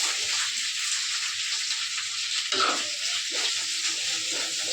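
A steady, loud sizzle of chopped onions frying in a hot pan fills the clip, with a brief clatter partway through as more is added.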